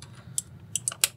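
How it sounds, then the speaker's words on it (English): A cheap, slightly flexy mechanical keyboard being typed on in a short run of four or five crisp, separate key clicks over a low steady hum. "these are the cheapest mechanical keyboards I have ever found"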